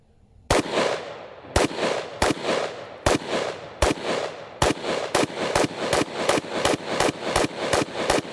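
Gun firing a string of rounds after the string is pulled: sharp, loud, close shots, at first spaced unevenly, then coming faster and more regularly as they go on.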